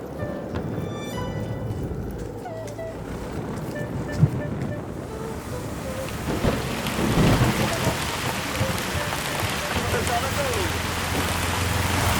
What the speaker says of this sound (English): As the thick rain sets, water engulfs roads and pathways.